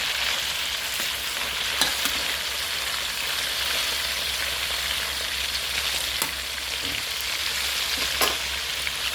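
Marinated pork fries in a pan with a loud, continuous crackling sizzle, broken by occasional sharp clicks and scrapes as the pieces are flipped.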